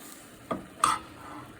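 Boxed macaroni and cheese stirred in a pot: two brief scraping, clattering strokes against the pot amid a soft low sizzle, quiet and close, with no voices.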